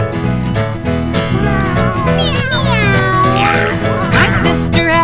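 A cat meows repeatedly in long, wavering calls, close and loud, woven into a sung children's song with music carrying on underneath.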